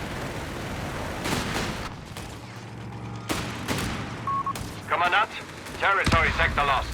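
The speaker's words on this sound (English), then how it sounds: "early grenades here from Yupa." Grenade explosions and rifle fire in a Company of Heroes 3 4v4 battle: several sharp blasts and scattered gunshots over a steady battlefield rumble, with voices from the game and a commentator talking in the background.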